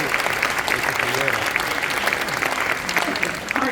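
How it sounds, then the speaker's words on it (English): Sustained applause from an audience at a high school spring concert and awards night, honoring students, a dense steady wash of many hands clapping with faint voices mixed in. "Big round of applause for these kids."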